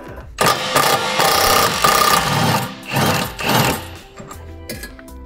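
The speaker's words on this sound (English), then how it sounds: "Next, we're going to remove the nut holding the strut to the spindle assembly." Hand tools and a wrench working loose the nut that holds a coilover strut to the spindle assembly of a VW MK5/MK6, loud close ratcheting and mechanical grinding bursts with pauses between them.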